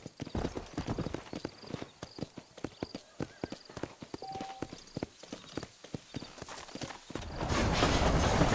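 Horse hooves clip-clop in a steady, close rhythm through the Red Dead Redemption video game, with a brief whinny. The hoofbeats end in a louder wash of noise.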